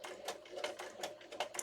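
A sewing machine stitches a Christmas journal cover in quick rhythmic bursts of needle clatter, faint and close, with no talk.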